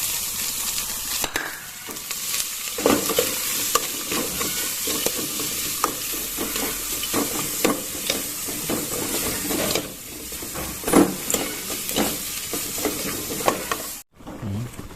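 Ingredients stir-fried in a hot pan for an eel dish, loud continuous sizzling and hissing with repeated scraping stirs and clinks of a utensil against the pan, steady throughout with a brief break near the end.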